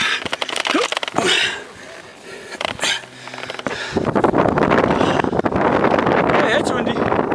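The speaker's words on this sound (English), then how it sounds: "Hey, that's windy." Wind on a hiking trail up Bishop Peak near San Luis Obispo, California, buffets the microphone in gusty rumbles that grow into a strong, steady roar in the second half, with a voice briefly heard.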